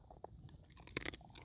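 A dog chews a beef bone outdoors in quiet, faint crunching bites and a sharper crack near the middle, brief and close.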